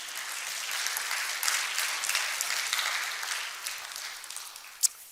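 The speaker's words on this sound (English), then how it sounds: "Can we give them a round of applause as they come up" An audience applauds as three panelists come up to join a talk on embracing change, with dense, even clapping at moderate volume and a single sharper clap standing out near the end.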